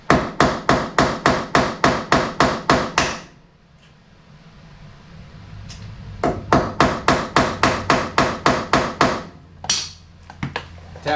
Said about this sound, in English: Hitting it with a hammer